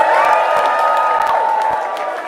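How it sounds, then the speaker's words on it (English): A live comedy show audience at a climate fundraiser cheers loudly, a dense wash of crowd shouts and whoops that holds steady for the whole stretch and eases slightly toward the end. "I want you to give me the biggest cheer if you care for climate"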